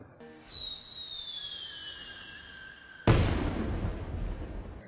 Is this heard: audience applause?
no